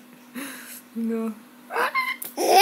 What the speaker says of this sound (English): She got the hiccups.